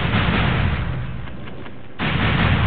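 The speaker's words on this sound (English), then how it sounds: "Go ahead and drop some bombs." Morph ball bombs going off in Metroid Other M, with deep booming blasts and a low rumbling texture, a quieter dip and then a renewed burst near the end.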